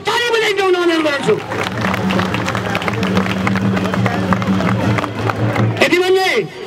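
A crowd claps together at the Mahalaxmi chariot festival in Nepal, a dense, steady wash of applause between stretches of amplified speech at the start and end.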